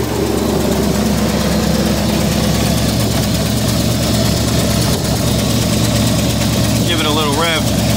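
A 1966 Ford Thunderbird V8 idles steadily and close by right after an oil change, its low rumble constant throughout, with a brief rising rev near the end.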